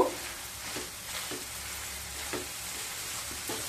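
Kalakand mixture with ghee and cardamom powder stirred in a hot pan, making a soft, steady sizzle with faint scraping strokes repeating every second or so, fairly quiet and with no voices.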